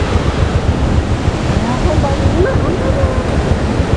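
Strong wind buffeting a microphone on a rough mountain road between Ghandruk and Pokhara during an off-road scooter and motorcycle ride, a loud continuous roaring rumble with constant gusting and no clear speech.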